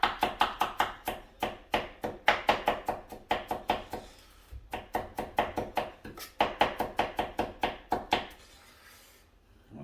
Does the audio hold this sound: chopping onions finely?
yes